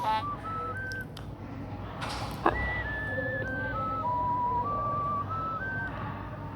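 Someone whistles a clear, slow melody of sustained notes over a soft background hum, with a brief sharp click partway through.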